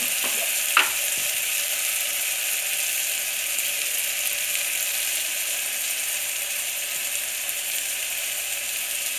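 An onion and tomato masala with turmeric fries in a pan for dal khichdi, giving a steady, even sizzle throughout with a single brief utensil knock near the start.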